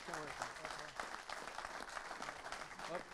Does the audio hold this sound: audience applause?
yes